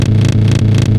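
A Beat DJ roll effect with ascending transients repeats a short beat slice about four times in one second, each loud, buzzy repetition stacked over a steady low tone.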